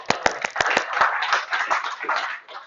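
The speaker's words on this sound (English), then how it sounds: "please give a very friendly opposing group welcome and a round of applause to Robin." Audience applause at a pricing and mindset talk, a short burst of brisk hand claps from a small group, sharp at first then thinning into scattered clapping before fading.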